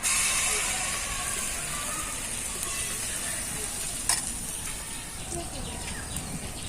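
Malpua batter dropped spoon by spoon into hot oil sizzles in a steady, close broadband hiss, with a brief clink partway through.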